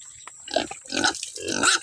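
Pigs grunt at a farm pen during feeding, three short close snorting bursts separated by brief pauses.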